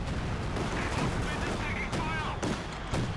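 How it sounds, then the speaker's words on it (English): In the video game Company of Heroes 2, LEFH artillery shells land on a mortar pit, producing a dense, continuous rumble of blasts and crackling impacts with a few sharper bangs toward the end. "So rounds are coming down on top of that mortar pit yet again."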